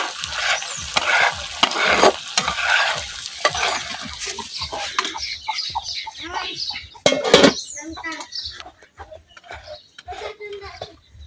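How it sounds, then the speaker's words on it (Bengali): Beef pieces frying in an oil tempering for a village-style beef pickle, a loud close sizzle and stirring clatter that fades later, with speech and birds chirping in the background. "সবটা মাংস আমি দিয়ে দিচ্ছি বাগারের মধ্যে।"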